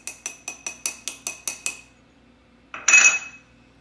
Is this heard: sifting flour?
yes